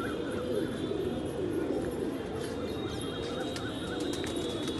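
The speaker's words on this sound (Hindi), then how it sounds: "ये भी सब जोड़वाल कबूतर हैं।" Pigeons coo steadily in a loft or coop, a dense murmuring chorus with occasional higher squeaks over a constant background hum.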